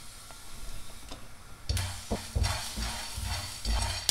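Pepper, coriander, cumin and fenugreek roast in a hot pan with a steady soft sizzle, broken by louder scraping stirs and clinks partway through. The sound is close and moderately quiet, and no one speaks.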